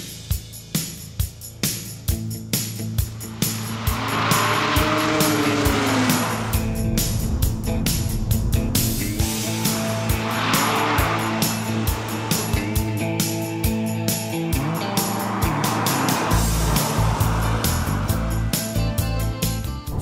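A BMW 330 coupe of the E92 generation drives along with a steady engine drone that rises and falls through repeated gear pulls, loud and close, with no talking over it.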